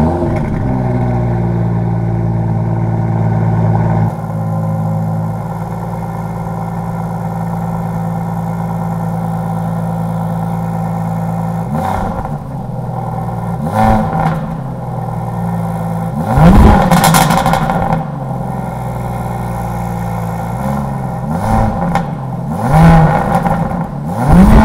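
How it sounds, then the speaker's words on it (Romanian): Cold start of an Aston Martin DBS Superleggera's supercharged 5.2-litre V12: a steady loud idle, then several sharp revs rising and falling one after another near the end, with no talk over it. "Este supraalimentat, îi dăm un cold start,"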